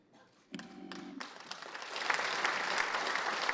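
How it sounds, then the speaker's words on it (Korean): Applause breaks out in the National Assembly chamber during a presidential policy address, starting after a brief low tone and building into sustained, dense clapping that grows louder and fuller toward the end. "지금 시정 연설 중에 여러 가지 내용에 대해서 박수를 치는데요"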